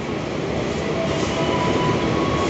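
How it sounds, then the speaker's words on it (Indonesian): Serayu passenger train arriving at Bekasi station in Indonesia, a loud continuous rumble of railcars and wheels on track with a faint squeal, heard close and without talk. "Pukul 17:02 kereta api Serayu sudah tiba di stasiun Bekasi."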